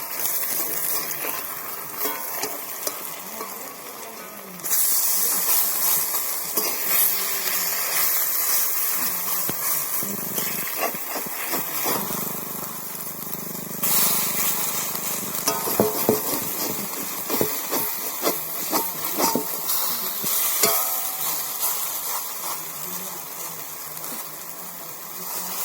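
Cabbage fritters with coriander leaves fry in a pan, giving a steady broadband sizzle and hiss that swells and eases over about 25 seconds, with occasional crackles and scraping as the pieces are turned.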